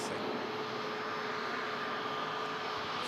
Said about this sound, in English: As the ATR steadily climbs out from Manchester